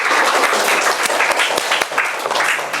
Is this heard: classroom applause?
yes